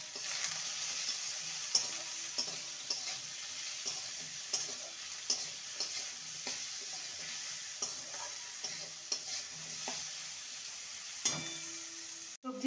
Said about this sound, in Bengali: সবজিটাকে ভালো করে ভেজে নিয়েছি।